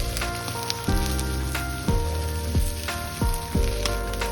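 Okra pieces, known as ladyfingers, sizzle steadily in hot coconut oil in a pan, with a dense crackling hiss and repeated bumps and clatter as they are stirred, close up and with no talking.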